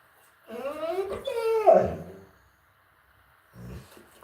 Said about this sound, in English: My dog's wanting a little attention here.